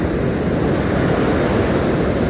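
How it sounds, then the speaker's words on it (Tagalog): Ocean waves churn at sea near a small fishing boat, a constant loud roar of surf mixed with wind, with no talking. "Nalalakihan pa ako sa alon."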